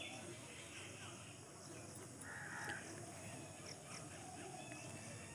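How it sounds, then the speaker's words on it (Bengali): Crows caw in a village, faint and somewhat distant against steady outdoor background noise, with a few scattered calls. "এই পাখির ডাকগুলো এত এত এত এত ভালো লাগে"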